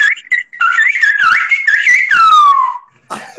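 A person whistles a wavering, improvised tune at close range, the melody sliding up and down with short breaks before a final falling note and a brief trailing sound.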